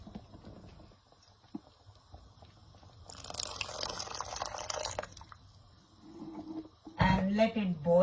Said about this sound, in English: I'm going to add a quarter cup of water in it